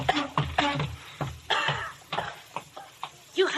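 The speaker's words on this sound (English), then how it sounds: "Those coughing spells." A coughing spell in an old radio drama: several harsh coughs and throat-clearing sounds come in uneven bursts, close and fairly loud, mixed with strained voiced breaths.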